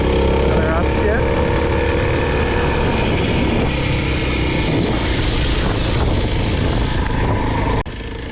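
A Kawasaki KLX 300 dual sport motorcycle (2021) climbs a dirt trail on a ridge near Boise, Idaho, its engine droning loud and close with a shift in pitch, plus rushing wind throughout.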